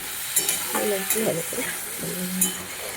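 Kohlrabi cooking with tomato and cumin in a pan gives a steady sizzle with stirring and occasional scraping of a utensil, while someone talks over it.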